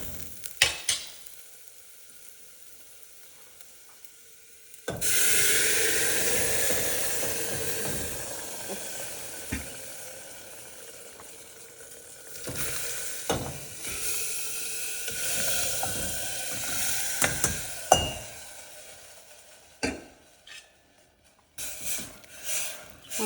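Dal tipped into a pan of fried onions bursts into a loud sizzle and hiss, then settles into steady frying with intermittent stirring clatters and scrapes.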